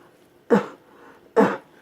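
Two short, sharp coughs about a second apart, close and loud against near silence.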